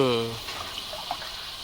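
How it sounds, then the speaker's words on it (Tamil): A short voice fades out, then water is poured into a pot with a soft splashing trickle, faint and close. "கொஞ்சம் தண்ணி சேர்த்துக்கலாம்"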